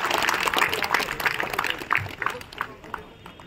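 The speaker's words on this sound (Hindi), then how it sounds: "जोरदार तालियों के साथ एक बार पुनः स्वागत करें" A crowd at an outdoor political rally against the Congress government in Ratangarh claps to welcome a guest, a dense, steady patter of many hands that slowly thins out while a voice speaks over it.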